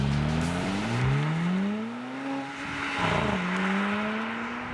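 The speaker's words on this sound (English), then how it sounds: "at the rear, you have the quad exhaust pipes, which again sound and look great." Quad exhaust of a Mercedes-AMG GLC 43 Coupé revving, the engine note rising and falling in several sweeping pulls, fairly close and clear with no talk over it.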